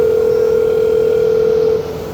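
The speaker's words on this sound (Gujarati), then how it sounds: "લાવો ત્યારે ફોનથી સંપર્ક કરી જો" A steady telephone dial tone hums alone for about two seconds, then drops in level just before the end.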